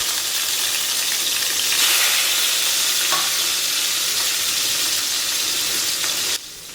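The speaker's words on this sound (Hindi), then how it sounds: "और अच्छे गरम सरसों तेल में अब हम फ़िश के पीसेस को डाल" Rohu fish pieces fry in hot mustard oil with a loud, steady, close sizzle that swells after the first couple of seconds and then cuts down sharply near the end.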